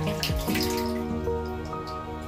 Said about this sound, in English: See how they are jumping into the water.